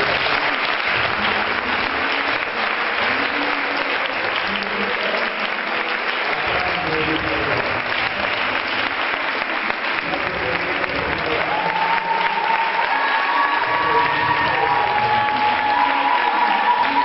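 A church congregation applauds Jesus with sustained loud clapping that fills the room. A sung or held tone rises over the applause near the end.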